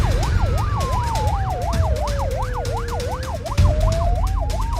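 Ambulance siren on a paramedic vehicle driving with lights and sirens in Australia, a rapid yelp rising and falling in quick regular cycles, loud over road and engine noise.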